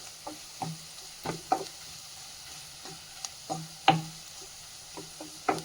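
A spoon scrapes rhythmically through onion, salt and spice powder in a pan, making quiet, evenly spaced strokes over a faint sizzle with no voices.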